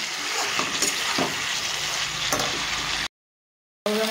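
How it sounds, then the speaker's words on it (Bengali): Vegetables for a fish curry are stirred and sautéed in hot oil, a steady close sizzle broken by scraping spatula strokes, cut by a short silence before frying resumes. "তো এখন একটু ভালোভাবে কষিয়ে নিব।"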